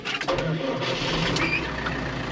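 A McCormick tractor engine cranks and catches, turning over with a rough mid-pitched rumble that settles into a steady idle, heard close up with no talking.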